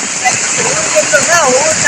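Floodwater after heavy rain rushes past a small bridge, a steady loud roar of water that never lets up, with birds calling over it.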